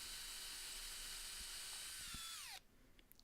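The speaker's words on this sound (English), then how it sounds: "So I'm drilling down through the original pieces straight" A power drill bores down into pine wood with a steady high whine that winds down near the end, then stops, leaving faint workshop noise.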